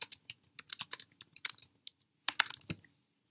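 Keystrokes on a computer keyboard, quick irregular bursts of close, crisp clicks with short pauses, one final heavier key tap near the end.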